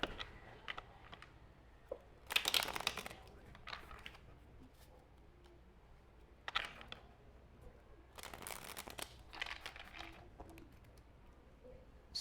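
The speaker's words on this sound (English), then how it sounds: "I will shuffle the deck again." Tarot cards shuffled by hand in a quiet room, with several short bursts of riffling and card slaps separated by softer handling and shuffling noises.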